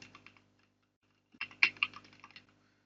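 A computer keyboard on a Windows PC is typed on in two quiet runs: a few light clicks, a one-second pause, then a louder, quicker burst of keystrokes heard close and alone.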